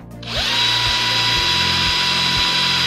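A Bosch GSB 120 LI 12-volt cordless drill spins up and runs steadily in second gear, a close, loud high-pitched whine that holds constant after a quick start, with faint rhythmic ticks underneath.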